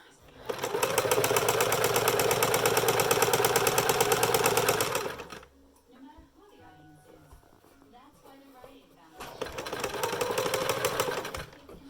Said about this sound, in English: foot down, stitch and back stitch